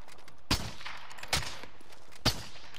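Three separate gunshots ring out in a military-base shooter game, each a sharp, loud crack spaced about a second apart, with a quiet background between shots and no talk.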